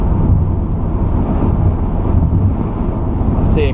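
A 2002 BMW 325i E46 cruises at 100 km/h in fifth gear, a loud, steady low rumble of engine, tire and road noise with wind buffeting, heard from inside the cabin.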